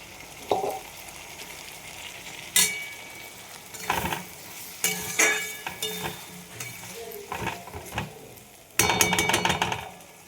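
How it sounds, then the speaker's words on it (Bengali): Spice paste sizzles with frying potatoes in a hot pan as a spoon scrapes and knocks against the metal in irregular bursts. "আলু ভাজা হয়েছে, আর এর মধ্যে যে পেস্টটা করলাম সেটা দিয়ে দিলাম"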